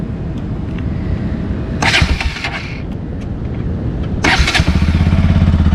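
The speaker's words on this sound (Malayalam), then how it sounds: "കണ്ടോ വണ്ടിയുടെ സൗണ്ടൊക്കെ നോർമലാണ്, ഭയങ്കര ലൗഡും കാര്യങ്ങളൊന്നും അല്ല" A Bajaj Pulsar RS200 motorcycle fitted with an aftermarket exhaust is cranked and fires up twice, each start a loud close burst settling into a rapid, throbbing idle.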